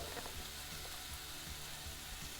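Onions sautéing in a pan, a steady faint sizzle and hiss with a few soft stirring knocks, quiet and continuous, no voices.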